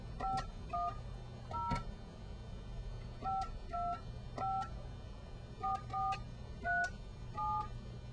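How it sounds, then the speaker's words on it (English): A telephone is dialed with a quiet series of touch-tone beeps, single tones and short pairs spaced irregularly over several seconds against a low background hum. "So I'll be dialing the phone now."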